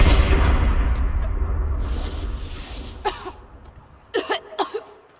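A character in Tomb Raider Definitive Edition coughs in several sharp, harsh bursts near the end, following a fading rumble of game ambience.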